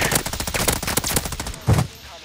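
Rapid automatic gunfire in Call of Duty: Warzone, a dense stream of loud, close shots that pauses near the end for one heavy single report.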